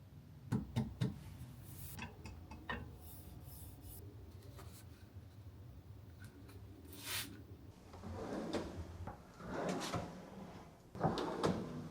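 Wooden sliding and rubbing noises with a few knocks, like a drawer being pulled open and pushed, close by and otherwise quiet.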